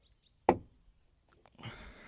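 A stay brace is pulled from the door of a crash-damaged Mini Clubman Cooper S, giving one sharp knock followed by a soft rustling scrape, in an otherwise quiet space with no talking.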